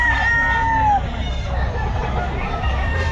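Roosters crow and chickens cluck at an outdoor pet market during heavy rain, one long crow standing out early over a steady wash of rain and distant crowd murmur.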